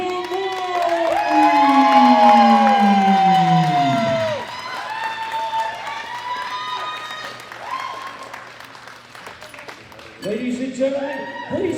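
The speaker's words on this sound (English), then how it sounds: "Big round of applause hailing from Great Britain" A powerlifting championship crowd applauds and cheers loudly for a Great Britain women's 52 kg gold medal winner, sustained clapping with a voice over it, then fading and swelling again near the end.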